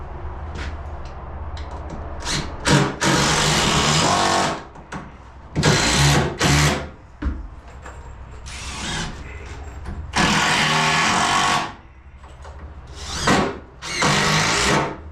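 A power drill drives screws into a shed storage loft, its whine coming in repeated bursts of a second or two separated by short pauses, close and loud, with light handling noise between runs.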